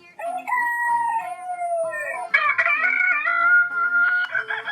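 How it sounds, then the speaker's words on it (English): A rooster crows in a farm-animal setting, a loud, drawn-out harmonic call that rises and wavers over several seconds, heard alone with no talking. "rooster."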